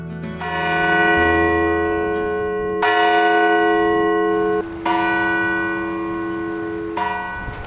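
A 100-year-old church bell from St. Leo's, hung in the bell tower of Sts. John and Paul, rings loud and close with four ringing strikes, each decaying into a long shimmering hum that overlaps the next.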